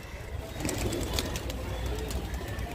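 A pigeon coos and stirs close by for a few seconds, with soft rustling and brief bright fluttering clicks over a low steady background hum.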